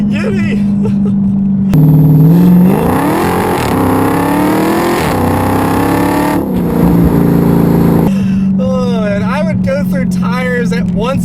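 A 2015 Dodge Challenger Hellcat accelerating hard in first gear, its supercharged engine rising in a loud, climbing roar over several seconds before easing off, with excited voices in the cabin around it.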